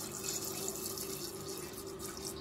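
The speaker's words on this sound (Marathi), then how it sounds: "त्याच्यात आपण पाणी टाकूया" Water splashes steadily from a pour into soaked black chickpeas in a pressure cooker, a continuous close trickle with a faint tonal ring.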